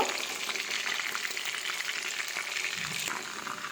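A homemade kebab fries in a pan after being flipped to its second side, giving a dense, steady hiss of sizzling oil with faint bubbling, close and even throughout, with no voices.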